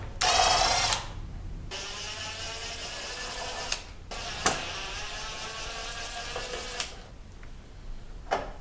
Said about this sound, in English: Next up, we're going to take this handle, these 3 screws off.